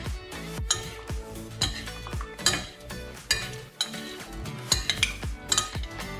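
A spoon scrapes and clinks against a bowl while chickpea salad is tossed with oil, giving steady, close stirring strokes with bright metallic chinks throughout.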